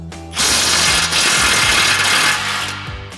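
A socket ratchet spins off the 21 mm lower ball joint nut on a 2015-2020 Ford F-150 front lower control arm, giving a loud, close, rapid clicking whir that runs for about three seconds with no talk.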